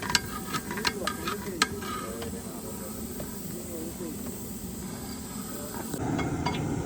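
Mustard oil hisses and sizzles steadily in a pan as it heats for tempering dal, with light clinks and a murmuring voice in the background; a brighter sizzle jumps in near the end.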